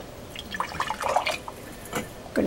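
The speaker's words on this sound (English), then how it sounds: "Going to fill it up to the bottom of this funnel" Grape nectar pours through a funnel into a sterilized glass canning jar, a light trickling and dripping with soft splashes that come and go, close and quiet, with no talking.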